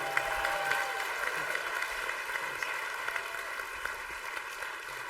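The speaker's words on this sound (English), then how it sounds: "so I think Rick deserves a special round of applause and thank" A conference audience at a keynote address applauds, an even, moderately loud patter of many hands clapping continuously, heard from a slight distance in a large hall.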